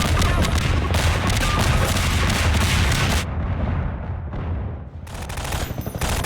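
Bombs explode in Half-Life 2: Episode Two, heard as loud, dense, crackling blasts and booms that drop away briefly to a lower rumble before surging back.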